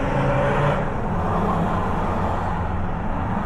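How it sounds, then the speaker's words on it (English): Petrol cars race past on the road, giving a loud, broad engine and tyre roar that stays steady and close throughout. "here we go, petrol cars racing"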